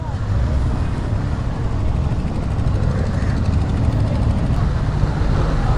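Motorcycle engine on a test ride of a 180cc scooter at a moto bazaar, a steady loud drone with heavy wind buffeting throughout, no clear speech.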